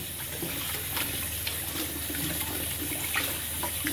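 Water being squeezed by hand out of preserved vegetables for steamed minced pork runs and splashes continuously and close up, a steady wet trickle with a few brief spikes and no talking.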